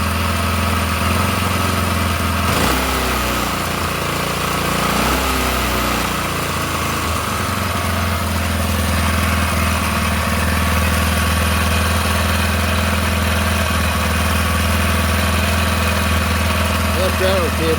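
A small 4-stroke engine runs at a steady, buzzing idle throughout, loud and close with a constant vibrating hum, while a person talks over it.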